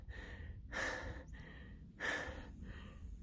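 Heavy breathing of a hiker pausing on a hard uphill climb on the Colorado Trail, two long deep breaths close to the mic at a slow, labored rhythm.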